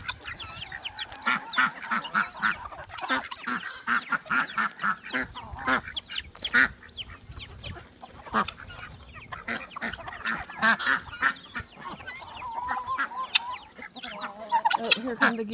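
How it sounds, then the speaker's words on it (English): Guinea fowl calling in a noisy flock, with rapid repeated harsh cackles and chattering bursts close by, continuing without pause. "Oh, here come the guineas."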